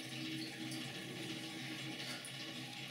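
Photographic fixer liquid, about 16 ounces, pours quietly and continuously into a container while film is being developed, with no talking.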